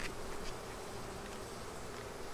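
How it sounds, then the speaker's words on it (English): A dense, steady buzz of many honeybees inside a hive fills the clip, loud and close, with a continuous droning hum and no voices. "Ooh, it is loud. And I will take it compared to that last hive. This seems to me like a lot of bees."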